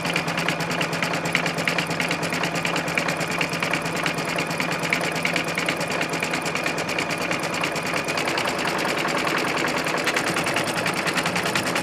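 Embroidery sewing machine stitching a quilt block, a loud continuous rapid mechanical chatter with an even rhythm throughout, close up and with no talk.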